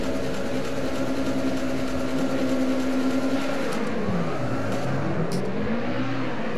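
A Lotus 2-Eleven races around the Magione circuit in Assetto Corsa, its engine revving steadily at high pitch with rising and falling tones as it accelerates and shifts, loud and close throughout.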